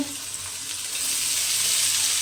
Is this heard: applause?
no